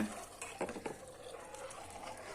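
Vermicelli soup being stirred as the egg liaison goes in, faint soft scraping and a few light clinks of a utensil against the pot over a quiet bubbling background, with no voices.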